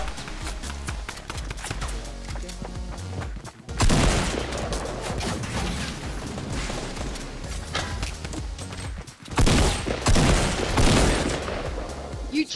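Rapid gunfire bursts in a first-person shooter video game, dense volleys of shots in two loud clusters separated by brief gaps, with rattling automatic fire throughout.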